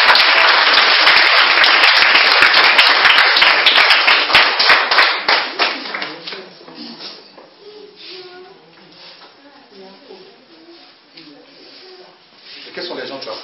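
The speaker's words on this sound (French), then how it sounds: "Est-ce qu'on peut acclamer Jésus?" Clapping and cheering from an audience, loud and dense for about five seconds, then fading into scattered claps and murmuring voices, with a brief rise again at the end.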